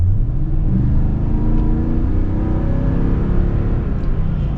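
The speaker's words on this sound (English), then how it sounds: "It's actually pretty good with the V8 from the acceleration standpoint" A 2021 Toyota Tundra TRD pickup with its V8 accelerates, the engine giving a loud, rising roar with a steady rumble and climbing pitch, close and alone without talk.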